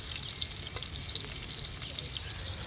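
Fish, caught from a lake, frying in oil with a steady, crackling sizzle and scattered sharp pops, close and continuous without any voices.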